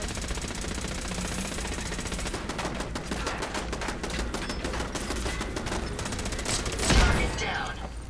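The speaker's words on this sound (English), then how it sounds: "Watch out for the turret." Rapid automatic turret gunfire in the Fallout video game, a dense continuous volley of shots that thickens partway through and peaks with a loud burst near the end.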